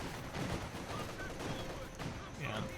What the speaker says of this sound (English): Ooh, nice suppressive fire.